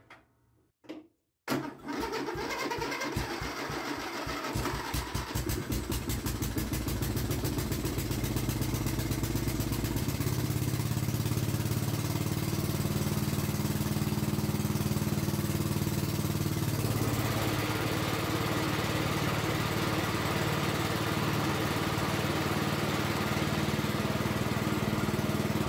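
An old ride-on lawn mower tractor engine catches after a few clunks, then runs loud and steady with a rattling, buzzing drone that shifts in tone partway through and continues close by throughout.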